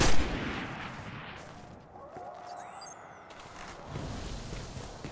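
Gunfire in the video game Destiny on PS4: an opening burst of shots and bangs that settles into a rumbling, noisy battle bed with later swells, no distinct talking.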